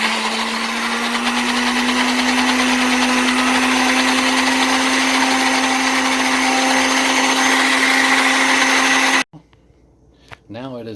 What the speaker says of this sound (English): I had it blending for like 2 or 3 minutes at highest setting you can go